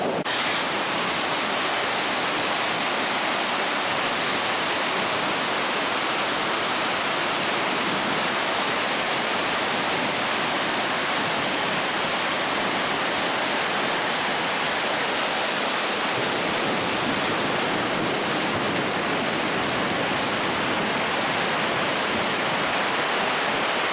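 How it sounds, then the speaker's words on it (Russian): The Kuzminka river in Leningrad Oblast rushes over a dam in a loud, unbroken roar of churning water that stays constant and dense throughout. "таким потоком река следует через плотину дальше"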